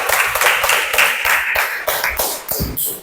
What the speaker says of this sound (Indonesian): Tepuk tangan untuk Acok.